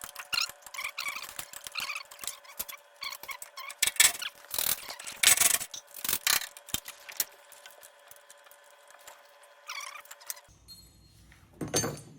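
A socket wrench ratchets on tight engine bolts during removal of the engine from a Steiger Tiger II tractor, giving bursts of close, rapid metallic clicking with short pauses between strokes and a brief clatter at the end.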